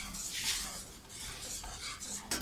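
Custard powder halwa being stirred in a pan over low flame, with a close, continuous scraping and rubbing of a spoon against the pan, ending in a brief clink.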